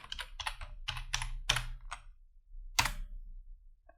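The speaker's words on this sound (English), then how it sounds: "type the username, user, and the password" A username and password being typed on a computer keyboard: quick clusters of crisp key clacks, then a pause and a final firm keystroke, close and clear with nothing else heard.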